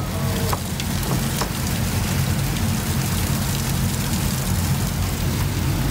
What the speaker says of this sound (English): I need to move some of this stuff inside before it starts raining too hard.